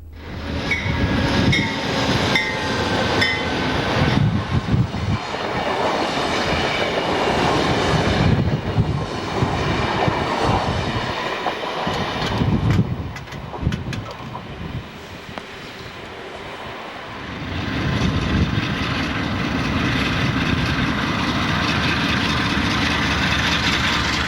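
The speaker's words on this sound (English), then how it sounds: "In PA, and this train is moving along on track 2" A Norfolk Southern train rolls along the track in Pennsylvania, heard from a trackside park: a steady, loud rumble of engines and cars that dips briefly midway, then swells again, with no talk.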